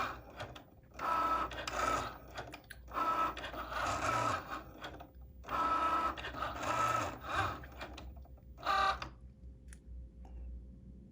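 A Cricut Joy cutting machine runs in bursts of mechanical whirring and buzzing, several pulses separated by short pauses, fairly close with a steady low hum underneath.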